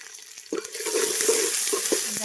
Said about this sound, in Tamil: வெங்காயம் போட்டு வதக்கி விட்டுக்கோங்க.